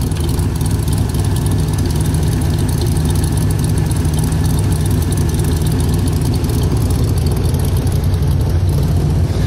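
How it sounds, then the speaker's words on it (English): A Corvette Stingray V8 with side exhaust idles close by, its deep, steady rumble holding constant and loud throughout with no pauses. "Still's got the rumble, still's got the side exhaust sound to it."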